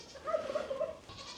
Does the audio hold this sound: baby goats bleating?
yes